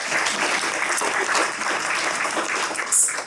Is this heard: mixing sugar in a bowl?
no